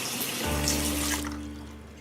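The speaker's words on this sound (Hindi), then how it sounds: "टैप बंद करो ना, पानी वेस्ट हो रहा है।" Water runs steadily from an open tap into a sink, a close, continuous rushing stream that holds level before easing slightly toward the end, with no talking.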